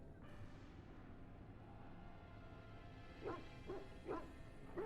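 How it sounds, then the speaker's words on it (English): A dog in the video game Dragon Age Origins whimpers and yips in a short series of three or four cries near the end, over a steady low ambient game soundscape. "I hear a dog crying"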